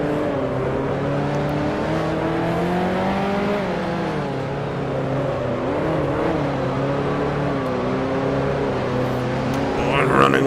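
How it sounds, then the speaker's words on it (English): A 1955 Formula One race car engine revving hard near maximum RPM in Grand Prix Legends, a sustained buzzing drone whose pitch rises and falls through gear changes across the whole stretch, with a voice talking over it. "Really maxing out the RPM there, trying to get back on it."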